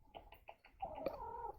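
A cat meows close by in a short, quiet run of repeated soft calls, ending in one longer, drawn-out meow.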